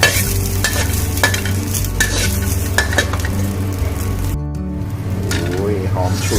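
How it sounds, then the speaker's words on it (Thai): Shallots and garlic dry-roasting in a pan for a Thai chilli dip, with a continuous gritty scrape and rustle of a spatula stirring throughout, over a low background hum. "เราก็มาคั่วหอมกระเทียมรอดูนะครับ"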